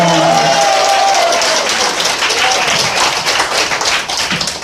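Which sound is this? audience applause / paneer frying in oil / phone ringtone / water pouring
audience applause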